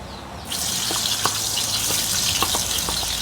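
Sliced garlic dropped into hot fat for Tobago-style curry crab bursts into a loud sizzle about half a second in, then keeps frying steadily with small crackles and pops close by.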